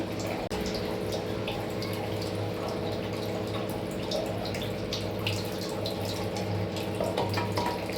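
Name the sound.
water squeezed out of grated radish, dripping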